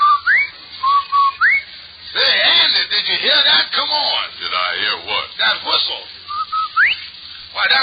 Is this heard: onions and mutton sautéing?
no